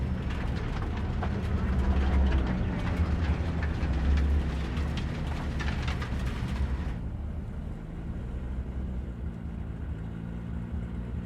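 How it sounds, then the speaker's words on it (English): A train rumbles in Cyberpunk 2077, a heavy steady low roar with rattling that holds throughout, loud and near, then thins to a duller hum after about seven seconds. "maybe we should just hijack the train"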